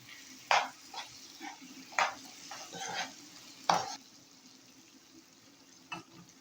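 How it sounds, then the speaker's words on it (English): Beef is stirred into a pot of plantain and beans pottage, a spoon scraping and knocking against the pot in a few distinct strokes over a faint, quiet simmer. "So I'm adding my beef. I will give it also a nice stir"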